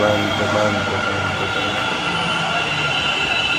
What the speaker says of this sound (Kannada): ಬಂತು ಮೆಟ್ರೋ.